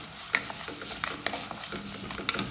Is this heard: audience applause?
no